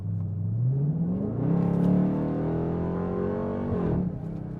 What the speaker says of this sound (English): when it shifts, you get those pops and burbles from that ZF